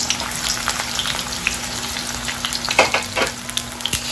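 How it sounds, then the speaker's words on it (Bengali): A large chopped onion browning in hot mustard oil, crackling and sputtering up close with steady frying and bursts of popping and stirring near the end. "একটা বড় পেঁয়াজ কেটে নিছি ওটাকে একটু ব্রাউন করে নেব"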